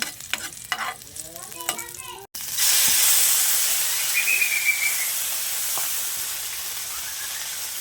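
Corned beef hits a hot pan and bursts into a loud, close, continuous sizzle that slowly eases, after a brief stretch of talk and light clatter.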